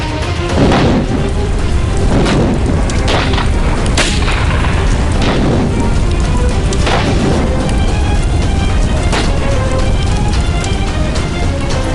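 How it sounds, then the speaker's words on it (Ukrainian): Loud, continuous rumbling blasts with sharp bursts and crackling debris, a sustained explosive roar with no speech. "сила вибуху невелика але осколки могли вас покалічити"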